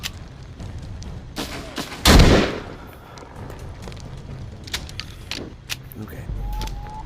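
A burst of gunfire in The Walking Dead: Saints and Sinners, one loud broadband blast near the two-second mark with a short tail, followed by quieter scattered pops and clatter amid game ambience.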